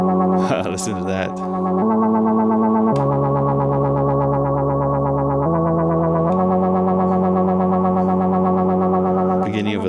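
An Erica Synths Das Kleine Fusion modular synthesizer patch runs through a filtered resonant delay, giving loud, thick, buzzing sustained chords that shift in blocks every second or two, with a ringing echoed tail and brief glitchy bursts at the start and end.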